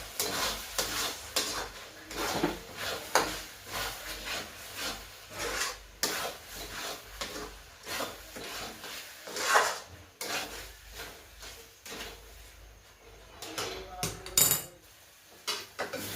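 Semolina sheera with sugar stirred in a pan on an Indian stove, close scraping and rubbing strokes of a spoon against metal in an uneven rhythm, with occasional clinks and some quiet speech.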